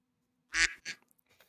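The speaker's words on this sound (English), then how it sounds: "Someone's quacking." A duck quacks twice in quick succession, a loud, close, raspy first call followed by a shorter second one, with nothing else around it.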